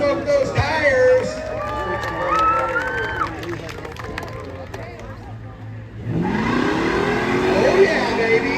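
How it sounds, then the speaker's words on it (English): A worn 1969 Dodge Charger does a tire burnout at a burnout contest. A revving engine and screeching tires build to a loud, broadband roar, with crowd noise and voices underneath. "Tell him to smoke those tires."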